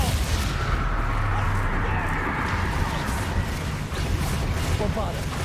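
Bombarda and Confringo spell blasts in a PC video game, a continuous barrage of booming explosions and crackling bursts with constant low rumble, loud and close, with a voice shouting over the din.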